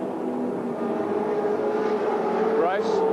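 Touring cars, a BMW among them, race at Sandown in 1981, their engines droning steadily and loudly with a rising whine of a car passing near the end, under a commentator's talk.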